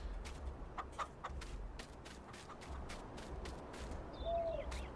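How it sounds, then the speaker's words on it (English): Chickens clucking in the Farming Simulator 19 video game, faint, scattered clucks and short calls over a low background hum, with no talk. "free-range chickens, yeah, I kind of wish, they had a full amount of chickens in there"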